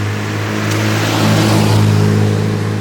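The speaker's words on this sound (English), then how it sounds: "Sorry about all the traffic, guys. This is the weekend," Weekend traffic on a road beside a mailbox installation, a loud nearby vehicle droning and revving as it passes, engine tone rising and falling over a few seconds, with no voices.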